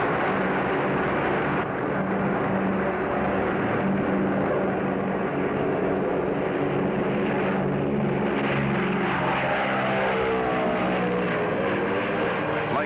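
An airliner takes off from Honolulu at night with a steady, loud engine roar that holds throughout, its pitch rising and shifting slightly partway through.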